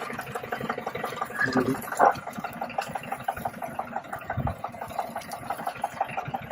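Off-road jeep near Masinagudi, Ooty, descending a slope with a steady mid-pitched engine rumble and gentle throttle, one louder surge early on, mixed with faint voices.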